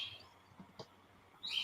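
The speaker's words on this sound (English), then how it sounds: "Got some birds back there." Birds chirping faintly in the background, with brief high twittering calls at the start and end over a quiet room.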